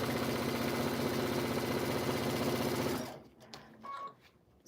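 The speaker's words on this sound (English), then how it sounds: "So what I am doing is, sewing." A sewing machine stitches steadily in a loud, rapid, even mechanical whir for about three seconds, then stops, leaving a few soft handling clicks.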